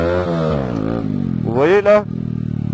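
Honda CBR 125 four-stroke sport motorcycle revving hard during a wheelie, engine pitch climbing then dipping and surging again, close by, with someone talking over it throughout.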